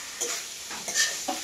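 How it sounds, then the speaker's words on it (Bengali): Potato and drumstick being fried and stirred in a pan for a fish curry, a steady close sizzle broken by three or four scraping stirs. "এইভাবে আমি একটুকু ভাজবো, একটু বেশি সামান্য।"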